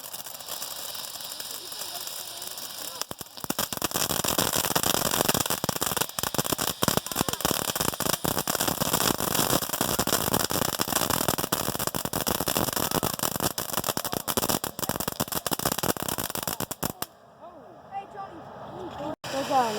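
Small fireworks go off in a dense, continuous crackling and fizzing burst lasting about fourteen seconds, then cut out abruptly, with faint background sounds before and after.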